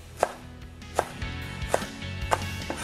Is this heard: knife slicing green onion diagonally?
yes